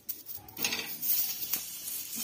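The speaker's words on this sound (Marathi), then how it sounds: "मीडियम गॅस करायचा आणि अशी टोमॅटो परतून घेऊया" Tomatoes sauté on a griddle pan over a medium flame, giving a soft sizzle with light scraping and stirring sounds and a few faint clinks.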